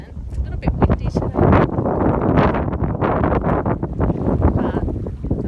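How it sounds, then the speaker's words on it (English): Strong wind gusts buffet the microphone in a continuous roar at the beach while standing in the water, with surf-like rushing underneath. "It's a little bit windy today"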